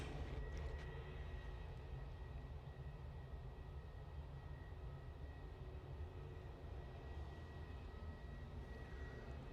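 An SAS Airbus A320neo airliner on approach to land over Stockport, near Manchester Airport, produces a steady, broad jet roar and low rumble that holds evenly throughout, with no voices.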